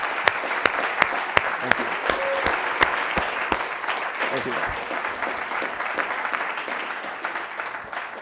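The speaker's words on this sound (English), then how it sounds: "Let's give them a massive, massive round of applause" Audience applause after speakers' talks at a Harvard event, a dense run of claps near and loud with sharp individual hand claps standing out; a voice says a few words of thanks over it, and the clapping fades gently toward the end.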